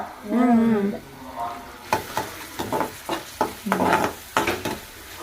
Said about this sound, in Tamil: வதக்கிட்டுருக்கோம்.